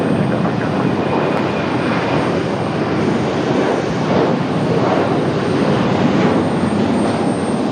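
Boeing 737 jet airliner engines at Raleigh Durham airport, a heavy fuel-laden jet giving a continuous broad roar that stays loud and steady throughout, with no voices.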